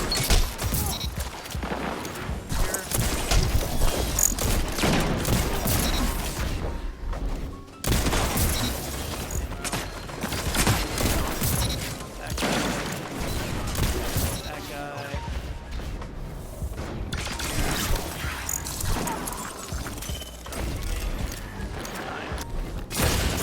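Rapid shotgun blasts from a Destiny 2 match played on Xbox Series X crack out in quick bursts amid dense game effects and impacts, with someone talking over the action throughout.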